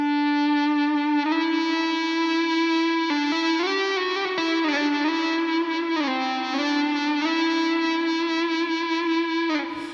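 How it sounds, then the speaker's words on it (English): Electric guitar chords and melodic lines played with an eBow ring out continuously, washed in reverb and trailing delay repeats, loud and sustained throughout. "versus adding some reverb and delays"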